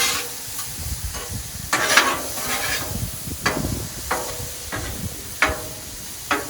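Beef with butter and soy sizzles steadily on a Blackstone griddle, a constant frying hiss broken by several sharp scraping spatula strokes at irregular intervals.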